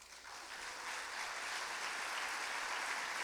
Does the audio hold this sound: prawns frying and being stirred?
no